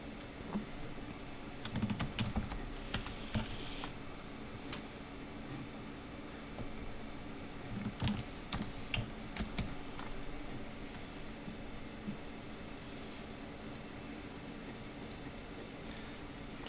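Text is typed on a computer keyboard in a quiet room, with soft, irregular clusters of key clicks and taps spread across the whole stretch, some bursts quicker and busier than others, with no talking.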